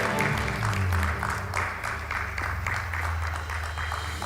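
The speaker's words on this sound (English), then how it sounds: "A loud round of applause for our new President." An audience applauds a newly inducted president at a College of Community Physicians of Sri Lanka ceremony, a dense, steady round of clapping that holds throughout with a low hum of music or crowd underneath.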